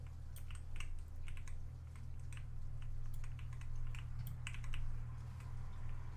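Typing on a Logitech G915 clicky mechanical keyboard: a brisk, irregular run of sharp key clicks close to the mic over a steady low hum.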